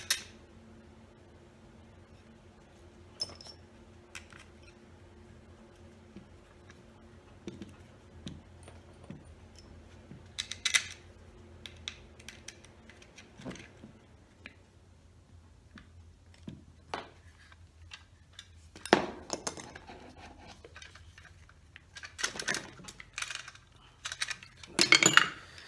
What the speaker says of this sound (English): put your screw back